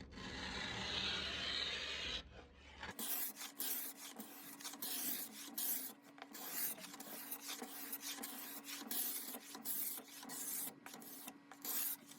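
Old finish is scraped from a solid wood dresser in a quiet, close run of short rasping strokes with irregular rhythm. A brief different noise comes before the strokes start.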